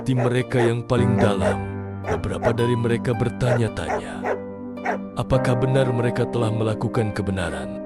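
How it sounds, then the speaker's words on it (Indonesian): Small dog barks, yips and whimpers serve as a story sound effect, recurring in short bursts throughout beneath a steady narrating voice. "Itu adalah suara gonggongan kecil,"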